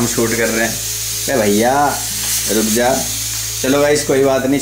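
Chole (chickpea curry) fries and sizzles in a pan as a steady background hiss beneath near, continuous talking from several voices.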